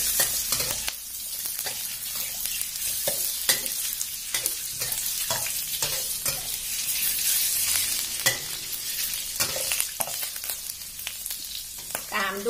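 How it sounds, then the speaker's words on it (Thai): Tofu and wood ear mushrooms stir-fried in a pan for a vegetarian festival dish, a constant bright sizzle broken by frequent scraping, clacking strokes of the spatula, close and continuous with no talk. "เมื่อผัดเต้าหู้สักพักหนึ่งเราก็ใส่ตัวเห็ดหูหนูค่ะ"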